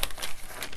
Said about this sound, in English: we want to take some scissors and we want to cut the corners